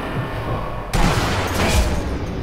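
Machine-gun fire in the Sniper Elite V2 video game, a sudden loud burst of rapid shots cutting in over a background hum, then rumbling on for over a second.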